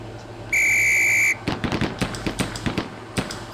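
A sharp, steady training whistle sounds once for almost a second in the Police Quest SWAT video game, followed by a rapid series of loud semi-automatic gunshots on a firing-range drill.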